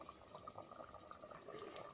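Tamarind juice pours into a simmering pot of elephant foot yam curry, a faint, steady liquid trickle with a small splash near the end, heard alone and close.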